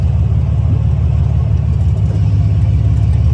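A 1946 Willys CJ2A jeep engine runs steadily while driving, a close, continuous low rumble with a slight throaty pulse and no clear rise in revs.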